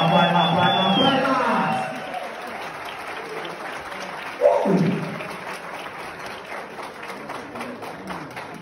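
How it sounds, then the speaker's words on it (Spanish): Applause for flair bartender Mariano Gil at a bartending competition rises under crowd noise. Brief shouts and an announcer's voice come early, then a sharp cheer or whoop bursts out midway, followed by softer scattered clapping and hubbub. "Los aplausos para Mariano."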